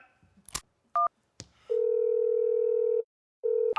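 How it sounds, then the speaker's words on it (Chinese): A telephone handset gives a few short clicks and two-tone keypad beeps, then a long steady dial tone that stops and starts again, sharp and close against otherwise quiet surroundings. "老子现在就打电话喊道上的人过来收拾你们"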